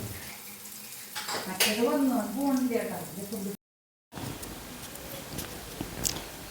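Oil sizzles steadily as brinjal slices fry in a pan, with someone talking over it and a brief silent gap midway.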